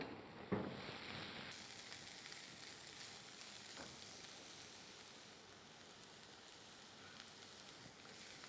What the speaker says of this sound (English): There's 1 large onion finely chopped. And we are going to saute it.